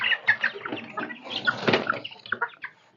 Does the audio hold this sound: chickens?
yes